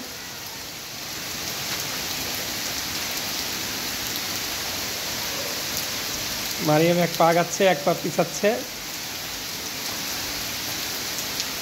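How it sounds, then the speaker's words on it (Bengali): Heavy rain pours steadily during the rainy season, a loud continuous hiss throughout, with a voice speaking briefly partway through. "দেখো তো বৃষ্টি কেমন।"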